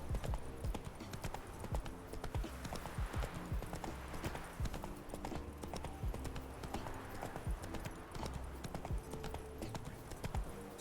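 Horse hooves clip-clop at a steady walking rhythm in The Witcher video game, a continuous quiet patter of close hoofbeats with faint game ambience.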